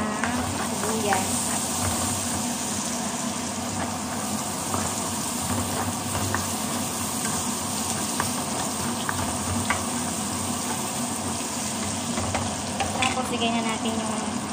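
Onions frying in a pan, cooked alongside fermented shrimp paste for a home-style dish, make a dense, continuous sizzle heard up close at an even level throughout, with light clatter over it and no clear talk.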